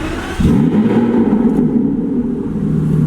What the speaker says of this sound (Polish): trzeba go tutaj do gniazda na środku i tak z nogą na hamulcu przytrzymując do końca przez chwilę on odpali